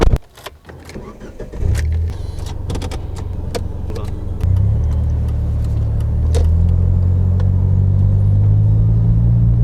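A car drives along a country road between villages with a steady close engine rumble and road roar that swells and deepens after a few seconds, with scattered clicks and brief bumps inside the cabin.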